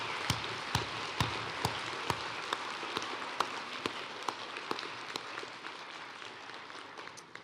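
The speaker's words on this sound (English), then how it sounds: "Please help me give Roman, Byron, Lynn, Camila, and Fernanda a warm round of applause." An audience at a high school graduation ceremony applauds steadily, a dense wash of many hands with sharp individual claps popping out at a regular pulse, heard from a distance and fading slightly toward the end.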